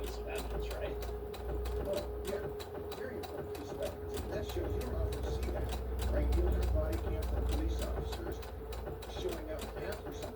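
A serger sewing machine runs steadily while finishing the edges of small back pockets, a fast continuous mechanical whir with a regular stitching pulse and a low motor hum, close by and constant throughout.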